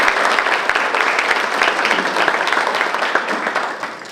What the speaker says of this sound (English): I think we all ought to give them a round of applause